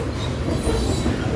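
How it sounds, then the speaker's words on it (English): A freight train with railroad tank cars rolls past close by at Ashland, Nebraska, a loud continuous rumble of wheels and rail noise with faint squealing, no voices. "But you never see a railroad tank car."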